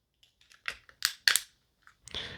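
A plastic gimbal protector snapping onto a DJI Neo 2 drone, a few small taps followed by two sharp close clicks and a brief rustle, with no talking.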